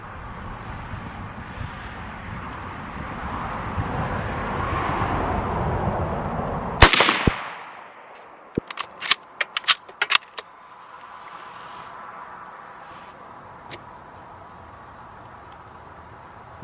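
A CZ 527 bolt-action rifle in 7.62x39 fires a single loud, sharp shot in the open, followed by a quick series of metallic clicks and clacks as the bolt is worked, over faint background hum.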